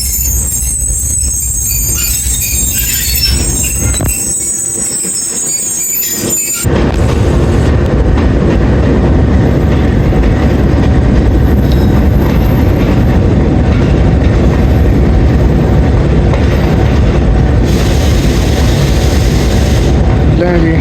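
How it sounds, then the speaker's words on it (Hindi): Passenger train passing at the Lala Musa junction platform, a loud continuous rumble of rolling rail cars with a high squeal early on, heard from aboard a Rawalpindi to Lahore railcar; a voice is faintly present. "जी सिस्टर ट्रेन का क्रॉस हुआ है जी लाला मूसा जंक्शन पे"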